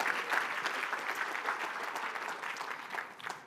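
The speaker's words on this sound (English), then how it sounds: "And that's why a round of applause for Scott Purvis." Audience applause at a rural awards ceremony, a steady crowd of clapping heard from a little distance, moderately quiet and continuous.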